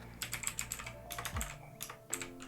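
Fingers type on a computer keyboard while setting up Python, a quiet, close run of irregular key clicks and taps with short pauses between bursts, nobody talking.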